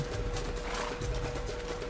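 Horse in the Minecraft video game making soft clip-clop hoofsteps, a steady short run of footfalls at moderate level against a steady background hum.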